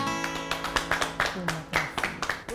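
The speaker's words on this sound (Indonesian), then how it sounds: "Kasih tepuk tangan sekali lagi" An audience at a cultural event on traditional kebaya and Indonesian culture claps in a scattered, uneven burst over background music, with taps and hand claps landing irregularly and a voice running throughout.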